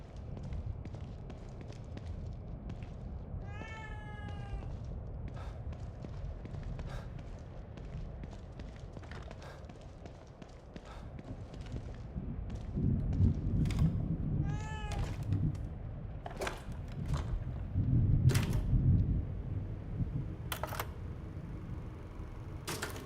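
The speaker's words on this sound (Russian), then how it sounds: "Очень, очень странная кошка." A cat meows several times within The Evil Within 2 video game, brief rising cries over a low rumbling ambient background, with scattered sharp clicks and thumps between them.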